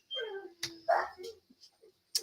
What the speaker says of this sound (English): Oh my gosh, I am so sorry about my dogs today.